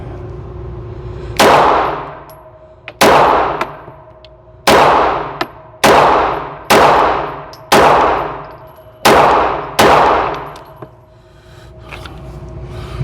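Glock pistol rounds striking steel targets at a shooting range: seven loud, sharp metallic clangs, each ringing briefly, fired at a fairly steady pace about one to one and a half seconds apart, with no talking between them.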